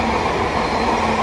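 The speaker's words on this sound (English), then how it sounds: "Right, let's wait for the next train." A train rolls into a station in a train simulator video game, a loud steady rumble of wheels and carriages with a faint tonal whine, close and continuous with no talk.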